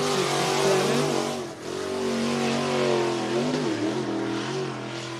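Dirt track race car number 67 roars around the Cottage Grove Speedway oval in Oregon, its engine loud and steady with a brief dip in pitch before it revs back up.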